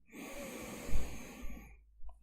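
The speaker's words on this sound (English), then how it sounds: "Take a deep breath in" A slow, deep inhalation drawn in through the airway during a tapping session for asthma relief, rising steadily for about a second and a half and then easing off, close and fairly soft, with no talk.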